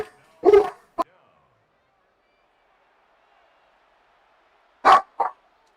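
Dogs bark at home in short, sharp pairs of yelps, with two quick barks near the start and two more after a long near-silent gap.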